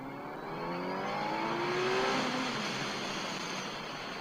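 A 2020 Kawasaki Z900 motorcycle's 948 cc engine revs up in second gear with rising pitch, swelling louder through the middle then easing off as it pulls away, no talking.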